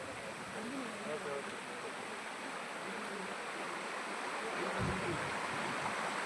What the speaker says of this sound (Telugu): ఇప్పుడైతే వాటర్ ఫ్లో తగ్గిపోయింది.